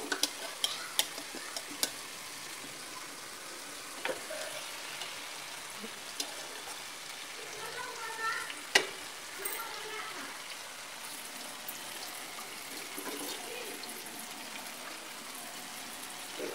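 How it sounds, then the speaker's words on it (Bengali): Chicken pieces for a reza-style curry sizzling and being stirred in hot oil, a steady crackling hiss with occasional scraping knocks of the spoon, fairly close. "এখন আমি মাংসটা দিয়ে দিব।"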